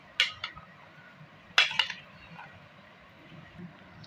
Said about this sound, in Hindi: चलिए अब ये सारी चीज़ों को हम मिक्स करते हैं।